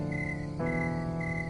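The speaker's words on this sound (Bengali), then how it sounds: "বাইরে কত ঝিঝি পোকা ডাকছে" Cartoon-style night crickets chirp in a steady, continuous high trill that shifts pitch slightly partway through, with no voices over it.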